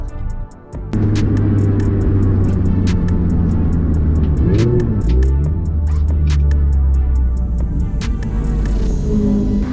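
Budget Mini Cooper race car at Oulton Park circuit with juddering brakes, its engine droning loud and close with a steady low rumble, shifting pitch midway, and sharp rattling clicks over the top.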